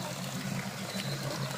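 Natural spring water pours steadily at a village filling spot in the Uttarakhand hills, a continuous close splashing trickle with no pauses.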